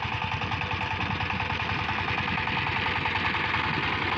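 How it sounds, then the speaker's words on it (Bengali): A power tiller's engine runs steadily while ploughing a village farm field, a continuous, close, loud mid-pitched chugging drone with a fast regular pulse and no pauses. "আপনারা দেখতে পাচ্ছেন পাওয়ার টিলার দিয়ে কিভাবে জমিতে হাল চাষ দিচ্ছে।"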